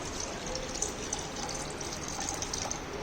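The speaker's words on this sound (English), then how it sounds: "So adding more water" Water is poured into a hydrostatic apparatus with a steady, faint, trickling wash that does not change through the clip.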